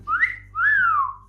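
A person whistles two rising-and-falling tones, a short swoop then a longer gliding note, close and clear over a faint low hum.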